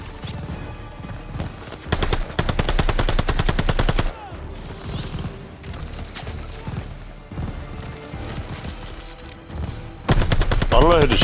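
Rapid bursts of automatic gunfire in the Call of Duty Vanguard campaign, loud volleys at the start and end with scattered shots and game noise between, no speech over it.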